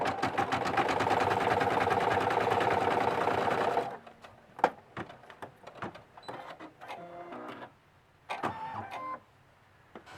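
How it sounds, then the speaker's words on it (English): An embroidery sewing machine stitching an in-the-hoop girl bunny's leg runs steadily with a fast, close mechanical whir for about four seconds, then stops; scattered clicks and handling noises follow. "now it's going to sew its leg down"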